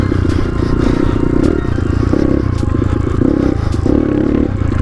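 A GPX Moto FSE 250e dirt bike ridden on the trail at Soldier's Pass, its engine droning loud and close with pulsing surges in throttle, over rattling and scraping from the rough ground.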